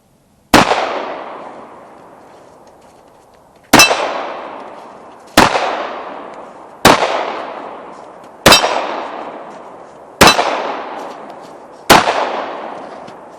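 Seven loud shots from a 1911 pistol each ring a small steel target plate with a sharp clang and a long fading metallic ring, spaced one to three seconds apart outdoors.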